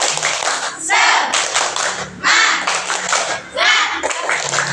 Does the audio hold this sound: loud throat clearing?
no